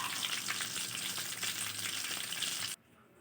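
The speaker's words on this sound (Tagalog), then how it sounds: "Prito na natin ang ating munggong" Mung bean lumpia (turon) sizzle and crackle steadily in hot cooking oil, a loud, close, continuous frying hiss that cuts off abruptly near the end.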